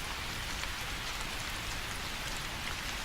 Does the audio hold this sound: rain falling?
yes